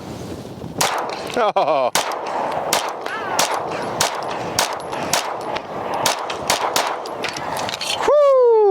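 Rapid, sharp pistol shots from an RSU Arms Odin ported and compensated pistol firing 124 grain rounds, loud and close in a steady string of roughly twenty reports, with a brief exclamation at the start.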